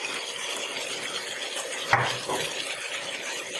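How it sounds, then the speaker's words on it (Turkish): Spices stirred into sea bass in a clay pot, a continuous close scraping and rustling stir with a soft sizzle underneath and one sharper knock near the middle. "Şöyle karıştırdık baharatlar birbirine"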